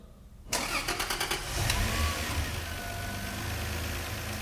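After a brief grinding crank, a car engine catches and settles into a steady idle following a crank sensor replacement, loud and close, with no talking.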